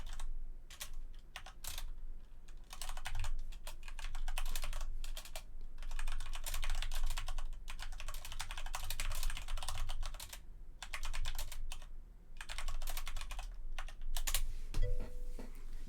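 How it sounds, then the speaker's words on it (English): Fingers rattle quickly and continuously over a computer keyboard, close-up clicking in uneven bursts with brief pauses, no one speaking. "I'll type on here too"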